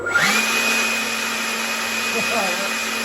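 An electric ducted fan on an RC model of an MD600N helicopter spins up into a steady, loud, high whine with a constant tonal hum. It is close and continuous, and there is no talk over it.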